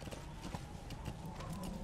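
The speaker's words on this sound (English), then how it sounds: "The horse is sometimes really, really fast." Horse hooves gallop rapidly in the Metal Gear Solid V: The Phantom Pain video game, a quick, continuous drumming of clip-clops under a dense rushing background, fairly quiet and without pauses.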